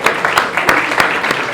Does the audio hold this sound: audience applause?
yes